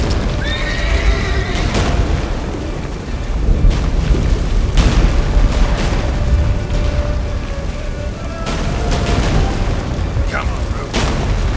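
Roach, a horse in The Witcher 3, neighs loudly and whinnies in short bursts over a steady galloping rumble and heavy booming game noise.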